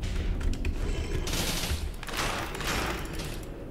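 Horizontal turret firing in the Dead Cells action game, a rapid rattling burst of shots with two louder surges of crackling fire, fairly close over a low rumbling game background and no talk.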